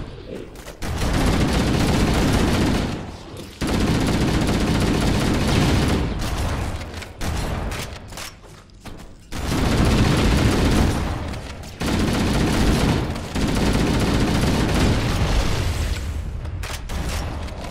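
Sustained bursts of gunfire and booming weapon blasts from the Halo: Combat Evolved Anniversary video game, loud and dense, with brief gaps between long volleys.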